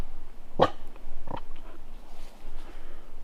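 A dog on a forest trail gives two short, gruff vocal bursts a little under a second apart. They are close and fairly loud, followed by quiet outdoor ambience.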